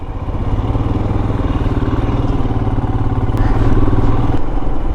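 A Royal Enfield Himalayan motorcycle is ridden through London. Its engine gives a loud, steady, close thumping drone with a faint clatter, and no voices are heard.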